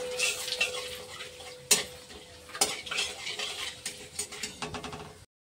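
Whole spices such as cloves, cardamom and cinnamon frying in a pan, a light crackling sizzle with a couple of sharp utensil knocks and scrapes as they are stirred, fairly quiet and close.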